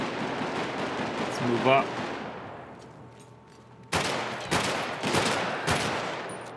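Several sharp gunshots ring out in GTA 5 with the LSPDFR police mod: a dense burst early on, then three or four loud, distinct cracks in the second half, with a voice speaking briefly between them.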